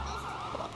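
An ambulance siren wails steadily and fairly loud for under a second, its pitch sweeping gently, with no voices over it.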